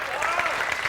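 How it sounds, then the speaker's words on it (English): A conference audience at a summit welcome session claps in a brief, steady burst of applause at moderate loudness, with some talk mixed in. "Let's have a nice round of applause for Carl Drew"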